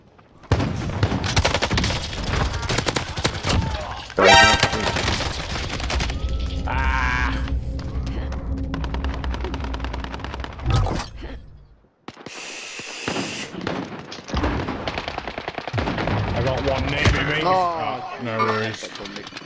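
Assault rifle gunfire in the Warzone Zombies video game, bursts of shots recurring through a dense, busy game mix with voices talking over the action.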